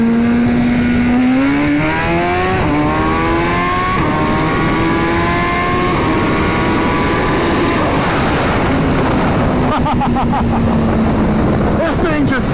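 A Suzuki Hayabusa with a 1600cc stroker motor accelerates hard, the engine rising through first gear with a loud, close roar, a brief dip at the shift, then a continued high-revving pull under strong wind rush.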